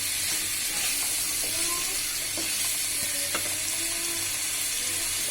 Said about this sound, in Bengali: কাঁকরোল দেওয়ার পর আমি এগুলোকে উল্টিয়ে পাল্টিয়ে নাড়িয়ে দিচ্ছি যাতে সব মশলা দিয়ে ভালোভাবে কষানো হয়